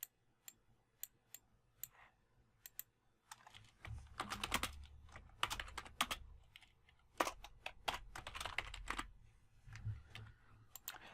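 Fingers type a name on a computer keyboard, first in scattered single key clicks, then in quick quiet bursts of tapping close up, with no talking.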